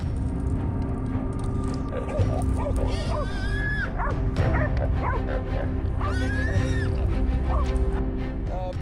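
Hunting dogs bark, yip and whine excitedly while chasing wild boars through Florida swamp brush, with rapid overlapping calls up close and a voice talking over them.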